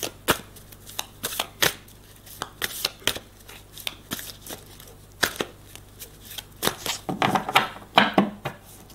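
Tarot cards shuffled for a reading, a close series of crisp riffling flicks and slaps in irregular bursts, growing busier toward the end, with no talk.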